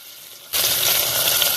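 Whole spices and onions hitting hot oil in a pressure cooker for paneer biryani, an abrupt loud sizzle bursting in after a short quiet moment and holding steady, close and bright.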